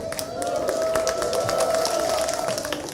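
Audience in a church sermon setting clapping steadily for a few seconds, a dense patter of hand claps with a sustained tone and crowd noise underneath.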